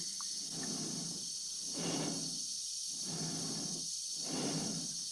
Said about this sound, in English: Dave's breathing adds a considerable amount of suspense to a film with very little action or dialogue.